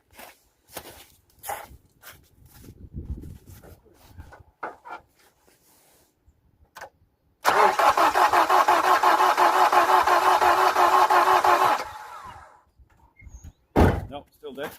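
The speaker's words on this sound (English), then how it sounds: "Let's give it a whirl, see if it does anything." A van with a suspected EGR fault cranks loudly and steadily for about four seconds without catching, after some talking, thumps and clatter. A final knock follows once the cranking stops.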